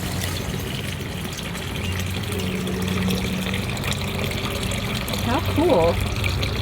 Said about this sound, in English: We're gonna fill our water bottles up with some spring water.